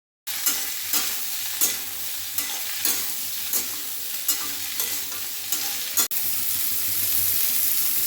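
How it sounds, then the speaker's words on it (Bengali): Boiled amla drop into a hot spice tempering and sizzle loudly in oil, with regular scraping stirs, then a steady, even fry as the stirring stops. "ফোড়নের মধ্যে সেদ্ধ করা আমলকিগুলো দিয়ে দেব।"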